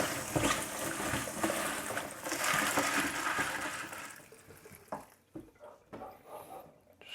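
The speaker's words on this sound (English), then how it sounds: "Gonna wash the salad in the basket." Tap water runs and splashes over spinach held in a salad basket, a continuous hissing stream for about four seconds that gives way to irregular knocks and drips as the basket is handled.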